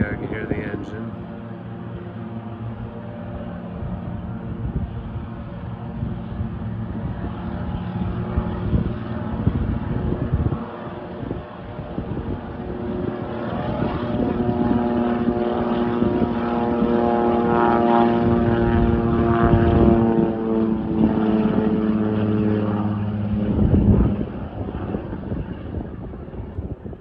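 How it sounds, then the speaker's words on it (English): A charter floatplane's propeller engine powers up for takeoff from the water at Edna Bay, Alaska, a loud steady drone rising and holding in pitch as it builds speed, with a voice talking over it. "Here they go, you can hear the engine."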